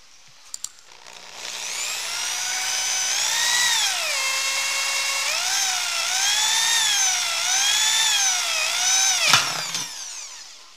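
A power drill fitted with a 1.5 mm bit whirs steadily for several seconds, its pitch rising and falling as it bites into material while building a chopper bike, then winds down and stops.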